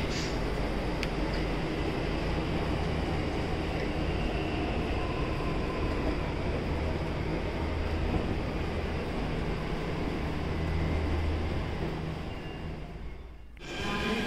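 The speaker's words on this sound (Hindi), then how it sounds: "आपको कुछ और मेट्रो ट्रेन्स की झलक दिखला देता हूँ जो कि स्टेशन पे आ जा रही है।" A steady low rumble of a Delhi Metro train at a station runs throughout, fading quickly to quiet at the very end.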